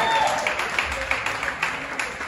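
Brief crowd applause for a band in a Nashville Broadway honky-tonk bar, scattered clapping over a busy room with some background voices.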